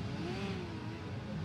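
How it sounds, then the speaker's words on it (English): Racing car engines drone and rev together at the start of a British Touring Car Championship race at Croft, a loud steady roar with a rising pitch sweep, no talking. "Revs are up, we're ready for a start."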